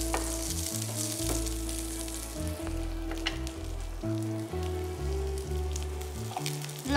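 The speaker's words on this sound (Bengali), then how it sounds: "পেঁয়াজটা বোধহয় একটু মানে ইয়েলোইশ হয়ে যাবে, একটু হলুদ হলুদ করে ভাজা হবে, খুব অল্প তেলেই ভাজা হবে।" Onion frying in a small amount of oil with curry leaves and green chilli, a steady close sizzle with crackling pops throughout, under a low tonal hum from a kitchen set with no talk.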